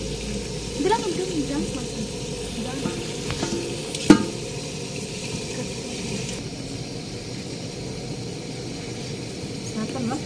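Food frying in spattering oil in a home kitchen, a steady close sizzle with crackles and a brief clatter partway through, while a person talks over it.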